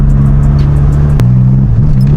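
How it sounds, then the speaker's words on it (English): A Volkswagen Golf GTI engine idles loudly close by, its pitch dipping and jumping unevenly, with a sharp click partway through. "The revs seem to go ba-bump."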